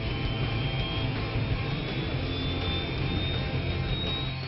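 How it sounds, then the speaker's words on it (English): Twin Shakti turboshaft engines of an LCH light combat helicopter spool up at an air force base, a continuous dense roar with a thin, slowly rising turbine whine held at a steady level throughout. "The rumble of the twin Shakti turboshaft engines come to life, rapidly turning the rotors into a steady chop"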